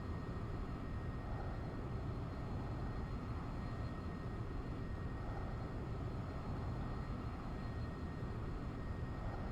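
A Cirrus SF50 Vision Jet engine runs at full throttle in a flight simulator, a steady, dense roar with no letup, even in level and constant throughout.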